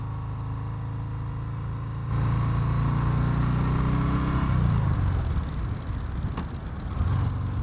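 Harley-Davidson FXDR motorcycle on a test ride: a low engine rumble swells into a louder, revving drone, eases off, then climbs again, heard close with no speech.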